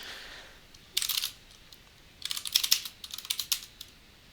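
Keystrokes come from someone typing C code on a computer keyboard in quick, close clattering bursts. Short pauses separate the flurries, and there is no speech.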